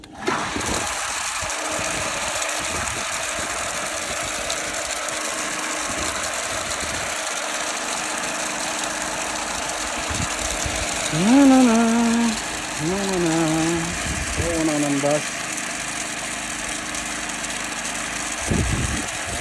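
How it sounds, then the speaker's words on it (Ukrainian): A small motor-driven water pump running steadily on an Abyssinian well by a river, a close, continuous droning hum with brief squeaky tonal wavers partway through. "Тепер підключаємо насос"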